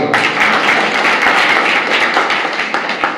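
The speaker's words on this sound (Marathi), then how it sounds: "तुम्ही 1 मिनिट उभं राहा, जरा जोरदार टाळ्या." An audience claps loudly for a family standing at a gathering, a dense continuous patter of many hands close by.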